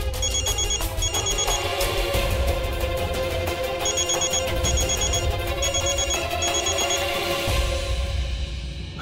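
A telephone rings again and again with repeated calls from Ragini, the bell bursts coming in clear pairs over a steady hum of background sound indoors.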